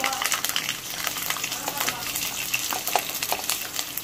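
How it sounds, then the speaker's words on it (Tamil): Garlic sautéing in a pan: a continuous, close frying hiss with scattered clicks and crackles throughout. "பூண்டு போட்டு நல்லா வதக்கலாம்"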